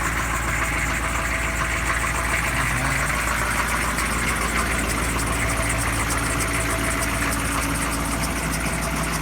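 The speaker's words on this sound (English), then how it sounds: "I actually enjoy that squeaky fan belt." A 1998 GMC K2500 diesel truck idles after a cold December start-up, its squeaky fan belt adding a thin squeal over a steady, close engine rumble that continues unbroken with no talking.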